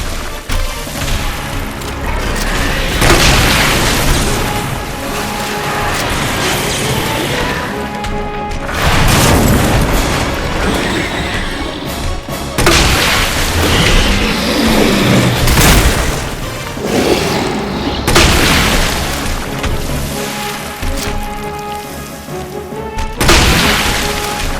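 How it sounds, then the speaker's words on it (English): Acid rounds fired from a weapon in the Resident Evil 2 remake, repeated loud booming shots and crashing impacts spread over a long stretch of dense game action, with no talk. "let's pepper him with acid rounds now"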